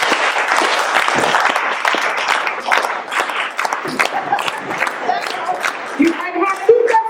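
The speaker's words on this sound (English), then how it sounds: "just give me a clap" Audience at a Black health talk clapping together, dense applause that thins out toward the end as a voice speaks over it.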